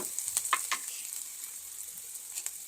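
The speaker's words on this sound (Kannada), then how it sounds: "ಇನ್ನೊಂದು ಬಾಂಡಿಗೆ 1 ಸ್ಪೂನ್ ಎಣ್ಣೆ ಹಾಕಿದ್ದೀನಿ. ಬೆಳ್ಳುಳ್ಳಿ, ಶುಂಠಿ ಹಾಕಿ ಚೆನ್ನಾಗಿ ಸ್ವಲ್ಪ ಫ್ರೈ ಮಾಡಿಬಿಟ್ಟು" Garlic, ginger and whole spices fry in a spoonful of oil in a pan for a Mysore-style mutton sambar, giving a soft, steady sizzle with a few faint crackles and pops, with no talk.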